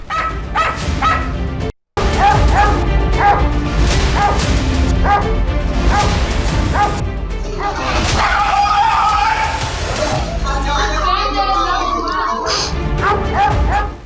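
Stray street dogs bark and yip repeatedly in a loud, busy urban scene, with overlapping howls, whimpers and a brief cutoff near the start, mixed with street noise and some voices.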